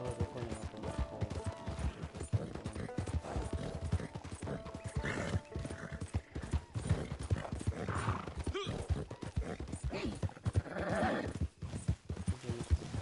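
Repeated hoof clip-clops of a horse with occasional whinnies, steady and fairly close, continuing throughout with dense game-like background sound.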